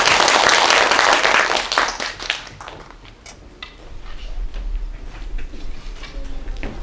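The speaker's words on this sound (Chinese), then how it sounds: "让我们用掌声欢迎张文亮教授" An audience at a mosquito-control ecology teachers' workshop in a Taipei park claps to welcome a professor, a dense wash of applause that thins out into scattered claps.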